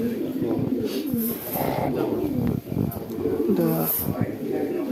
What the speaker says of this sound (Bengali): তপন কাক্কার কবুতরগুলো বর্তমানে সিল হচ্ছে আপনারা দেখতে পাচ্ছেন